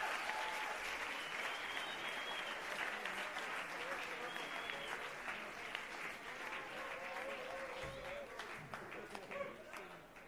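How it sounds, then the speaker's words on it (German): An audience applauding at a regional music award show, sustained dense clapping from a crowd that slowly fades toward the end, with a voice speaking over it. "Meine Damen und Herren, Applaus"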